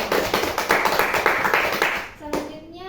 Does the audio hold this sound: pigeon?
no